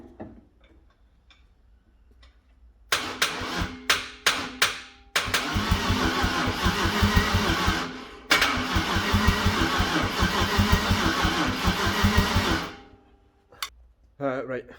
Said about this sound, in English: I can turn it over from the back of the starter